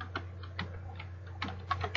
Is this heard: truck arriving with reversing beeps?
no